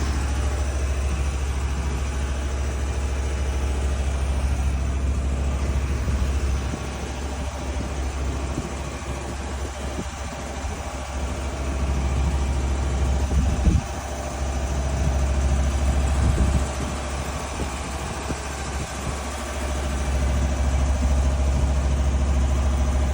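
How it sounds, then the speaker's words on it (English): A Harbor Freight Predator engine idles aboard a Catalina 30 sailboat, a steady low rumbling drone that dips briefly in level a few times and carries on without speech. "The old Harbor Freight engine works."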